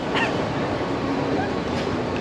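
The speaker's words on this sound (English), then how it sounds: "Look at this, the train." A passenger train pulls out of a station platform in Bangkok, Thailand, its steady low rumble and rolling wheel noise filling the scene continuously, with faint voices and station ambience mixed in.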